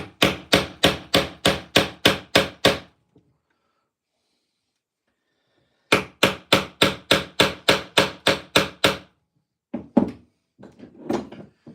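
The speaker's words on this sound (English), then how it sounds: "let's try a bit of hammering then" Hammering with a hammer, heard as two runs of about nine evenly spaced, sharp, loud blows separated by a few seconds of silence, followed by a few fainter knocks.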